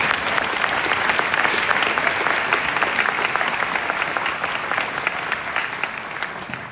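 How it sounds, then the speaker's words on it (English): Audience applause for the educators at a Taft Academic Center graduation ceremony: steady, dense clapping from a large crowd that holds at an even level throughout, with no talk over it. "Let's give our educators a round of applause."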